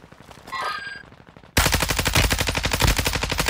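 Video game gunfire: after a quieter stretch with a brief tone, a loud burst of rapid automatic shots suddenly erupts and keeps rattling at a fast, even rhythm to the end.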